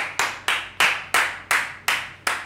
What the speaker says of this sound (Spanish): Un aplauso por mi madre